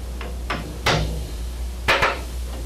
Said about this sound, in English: Go ahead and chisel the hole for both lugs.